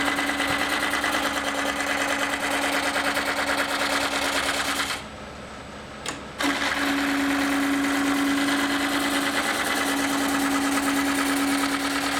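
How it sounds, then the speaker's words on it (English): Roughing gouge cutting a spinning wooden stave drum shell on a lathe, a steady loud droning whir with a constant hum that drops out briefly in the middle before resuming. "So I'll take a little more off with the roughing gouge."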